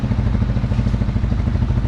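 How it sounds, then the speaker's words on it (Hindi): Lifan K29 250cc single-cylinder motorcycle engine idles with a deep, loud, rapid throbbing pulse, close up and steady, with no talking. "This is a single cylinder motorcycle. और ये साउंड आइडलिंग में इसकी।"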